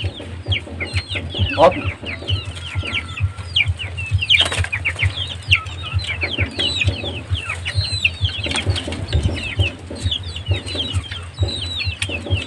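Chickens and chicks cluck and peep busily at a mountain spot, a steady chorus of high chirps over lower clucks, with a person speaking briefly among them.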